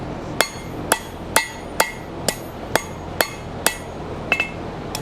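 Hammer striking a hot horseshoe on an anvil to flatten it, about ten sharp ringing blows at a steady rhythm, close and clear with nothing else over them.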